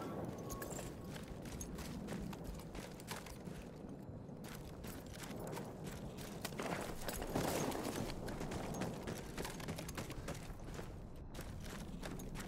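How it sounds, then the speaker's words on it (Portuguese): Horse hooves in the video game Battlefield 1, a dense, continuous clatter of hoofbeats amid mechanical rumble and battle noise, steady and moderately loud without talk. "Cavalo."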